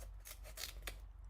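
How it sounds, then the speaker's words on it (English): Scissors cutting foam tape up close, a few quick crisp snips in a quiet room. "scissors and do me some cutting up here on my foam tape"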